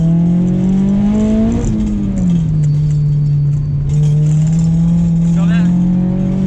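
Engine of a Honda S2000 humming steadily from inside the cabin as it's shifted without the clutch, the pitch dipping and settling between gears, with someone talking over it throughout.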